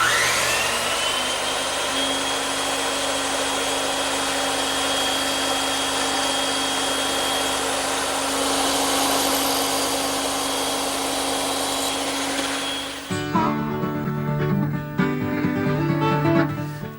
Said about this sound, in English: Now I just have to trim up the tenons using the bandsaw.